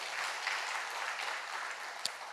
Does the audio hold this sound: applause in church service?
yes